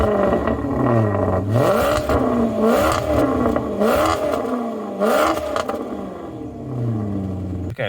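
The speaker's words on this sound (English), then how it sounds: "Time for the money shot and that epic Ferrari V8 sound." A Maserati Quattroporte with a Ferrari-built V8 and 180,000 miles, starting up and then revving repeatedly, loud rising and falling engine blips close by, followed by a settling idle.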